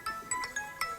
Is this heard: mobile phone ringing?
yes